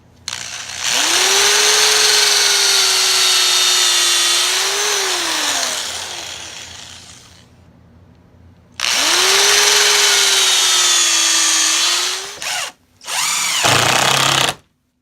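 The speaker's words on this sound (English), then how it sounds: "I'm going to pre-drill this one." A power drill whines loudly up to speed, pre-drilling wood for several seconds, pauses, then spins again in shorter bursts, close and alone.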